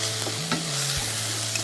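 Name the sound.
stirring spices and ginger paste in a pan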